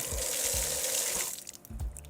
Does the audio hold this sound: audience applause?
no